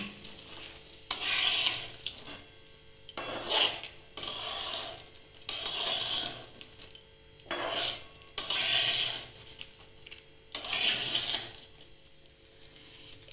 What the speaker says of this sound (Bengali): এগুলো সব ঘিয়ের সঙ্গে আমি একটু নেড়ে নেব।